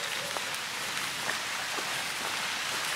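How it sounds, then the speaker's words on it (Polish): Light rain falls outdoors beside an old fortification wall near Pilica, with a steady broadband hiss of drops and wind and a few soft taps or footsteps, no talking. "wieje, trochę pada, ale nie jest źle"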